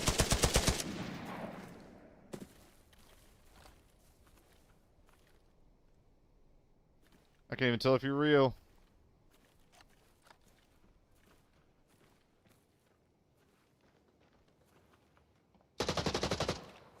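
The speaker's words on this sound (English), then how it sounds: "Shots far off." Distant gunfire in a video game: a brief burst of rapid shots at the start, another short burst midway and a third near the end, separated by long quiet stretches with a faint voice briefly heard.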